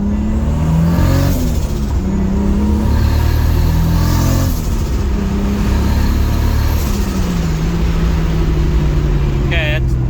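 A Toyota Supra MK4 with a newly completed fuel system drives off, its engine rising and falling through several loud, close revving surges under continuous road noise, with talking over it.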